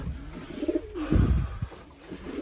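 Pet pigeons cooing near their nests, soft throaty repeated coos close by with a faint background hiss, no talk.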